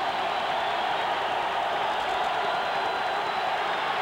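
A steady, dense roar from a stadium crowd on its feet at a 1987 49ers–Saints football game, loud and continuous with no break, like a wash of cheering.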